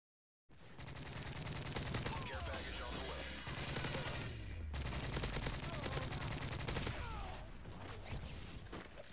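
Sustained bursts of AK-47 automatic fire in Modern Warfare 3 multiplayer, loud and rapid with a brief break midway, pounding continuously with explosions mixed in.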